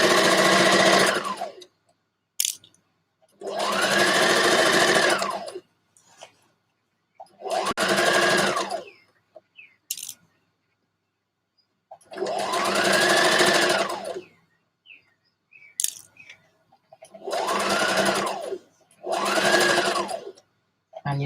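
A sewing machine stitches a dress sleeve in seven loud, steady whirring runs of a second or two each, separated by pauses and faint handling sounds.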